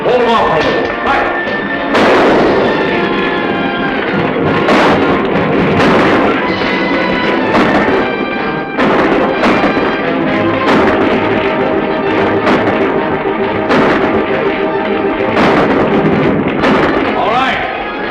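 Guns fire in a shootout over a blown powder store, with repeated loud shots and booming blasts crowding over one another in a dense, echoing barrage that goes on the whole time.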